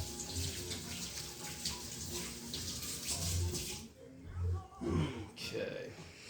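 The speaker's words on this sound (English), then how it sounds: "Give my hands a quick rinse here." A kitchen tap runs into a sink as hands are rinsed, a steady rushing stream that stops and then resumes in short splashy bursts, with a person talking over it.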